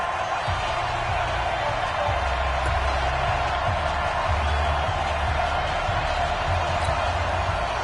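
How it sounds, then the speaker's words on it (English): Stadium crowd in a PS4 American football game, a dense, steady roar of many voices at a tie-game third down, loud and unbroken with faint thumps beneath. "the crowd getting into it as we come up on a big 3rd down"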